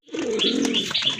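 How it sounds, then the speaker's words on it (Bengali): A pair of kagji pigeons coo close by in one short, clear burst of soft throaty calls, with no talk. "এটা হচ্ছে আপনার কাগজি কবুতর, খুবই অ্যাক্টিভ আর একদম ফ্রেশ আছে"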